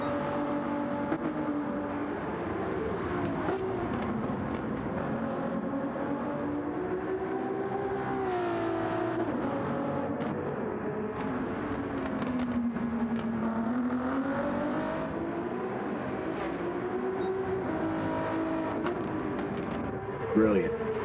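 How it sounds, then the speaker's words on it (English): A Ferrari GT race car engine screams at Brands Hatch, its pitch climbing and falling through the gears in a sustained wail, while a commentator keeps talking over it. "Ferrari just definitely sounds good too."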